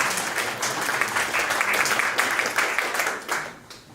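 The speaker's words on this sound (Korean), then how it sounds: "박수 부탁드립니다." Audience applause at a student machine-learning project presentation event, a steady wash of clapping from a room of people lasting several seconds and tapering slightly at the end, with no talking over it.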